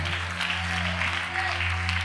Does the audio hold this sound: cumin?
no